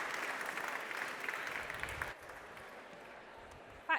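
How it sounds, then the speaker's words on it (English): Audience applause for a conference panel, a steady wash of clapping that drops sharply halfway and tails off quietly to the end. "Applause for the panel."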